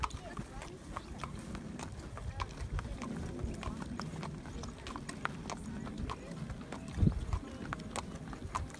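Horse hooves clip-clop steadily and close while the horse is ridden, a continuous rhythmic patter of footfalls with a brief louder knock near the end, and people talk over the hoofbeats.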